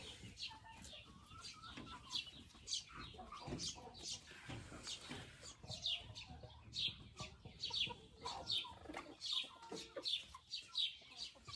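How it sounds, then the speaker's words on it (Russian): Marans hen clucking nearby in a home flock, a string of soft irregular clucks and chirps repeating throughout, fairly quiet over a light background. "Вот эта курочка Маран"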